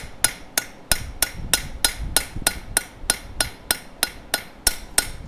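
A sharp ball peen hammer texturing a forged steel coffee scoop in a blacksmith shop, striking in a fast, even series of about fourteen crisp metallic taps, close and alone.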